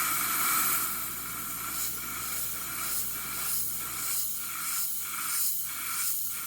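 Airbrush spray of opaque paint hisses steadily nearby, the airy stream swelling and easing in gentle pulses.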